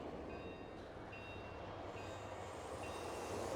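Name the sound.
train passing in StarCraft II video game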